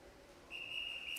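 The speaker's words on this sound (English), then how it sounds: "First whistle." A swim official's whistle sounds at the start of a boys' swimming regional prelims heat, one steady, shrill, sustained blast over the low hum of a crowded indoor natatorium.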